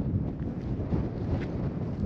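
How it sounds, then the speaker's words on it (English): Steady gusting wind in a park buffets the microphone, a dense low rumble with no breaks, close and fairly loud throughout. "It's hella windy"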